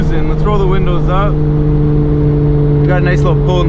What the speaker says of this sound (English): We got a nice little pull in the tunnel there for you guys.